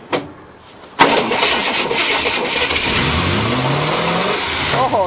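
A 1967 Cadillac engine cranks briefly, catches with a sharp start after about a second, then keeps running loudly with a rough, revving idle close by. No one speaks.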